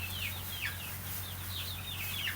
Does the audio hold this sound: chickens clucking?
yes